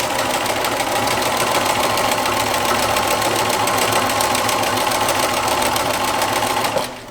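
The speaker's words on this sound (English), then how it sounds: "So that's primarily why I'm sewing over my pins." A sewing machine stitching fabric over pins, a machine about 20 years old, runs in a steady fast mechanical whir with rhythmic needle clatter, close and loud throughout, slowing at the very end.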